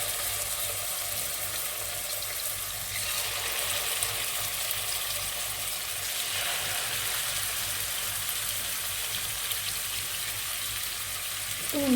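Afghani kebabs on skewers fry in hot oil over a medium flame, giving a steady, continuous sizzle with faint bubbling that carries on evenly and is heard alone without speech.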